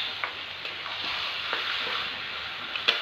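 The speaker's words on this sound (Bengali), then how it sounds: "সব মশলার সাথে ভালো করে নাড়াচাড়া করব, মাংসটাকে কষাতে থাকবো" Mutton is sautéed with spices in a pan, giving a steady close sizzle of frying with occasional scrapes and clicks from stirring over the continuous hiss.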